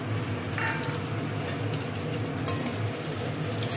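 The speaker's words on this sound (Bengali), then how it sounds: "এবার এগুলোকে, পেঁয়াজগুলোকে ভালো করে লাল লাল করে ভেজে নিতে হবে।" Chopped onions fry in a pan, a low, even sizzle that keeps going throughout with faint stirring noises and a brief scrape partway through.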